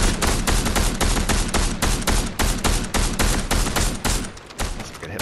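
Fortnite gunfire bursts in a fast, regular string of loud, close shots, each a sharp crack repeating several times per second for the whole stretch with no pauses and no talking.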